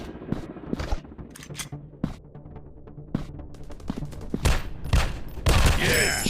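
Gunshots in a Counter Terrorist first-person shooter game: a string of sharp single shots and short bursts at irregular intervals, getting denser and louder toward the end, with faint game noise underneath.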